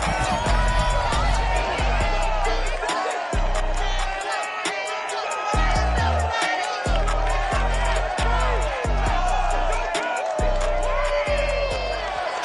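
Stadium crowd in Madden NFL 22 for a Ravens versus Bengals AFC North game, roaring in a continuous wash beneath a commentator speaking throughout, with the broadcast music bed mixed in.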